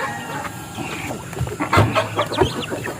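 Ducklings and other birds on a small farm, with chickens clucking and peeping close by in a busy, overlapping chatter and a few louder calls standing out.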